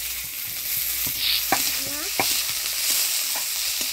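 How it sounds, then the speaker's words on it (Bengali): Chopped onion goes into hot oil with dried red chilli, bay leaf and whole cumin, frying for ghugni. The sizzle is a steady, close hiss, broken by scraping stir clicks and a few small pops. "এবার দিয়ে দিব পেঁয়াজ কুচি"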